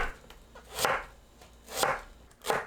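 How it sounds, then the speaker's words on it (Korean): A knife cuts radish into flat bite-size pieces for clam soup, making three crisp chops on a board spaced roughly a second apart, close and clear with a quiet background. "무를 한입 크기로 납작하게 썰어주세요."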